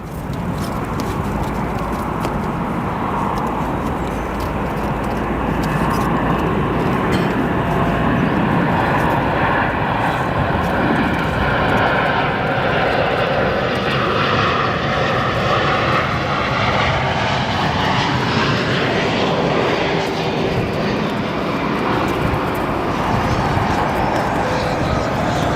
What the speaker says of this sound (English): Let's take a look at our O'Hare bound 787 here from London, operated by American Airlines.